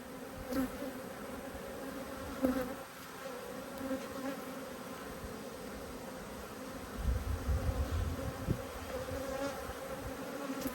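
Honey bees buzzing steadily around an open hive during an inspection of angry colonies, a dense continuous drone with individual bees passing close and fading, no talking.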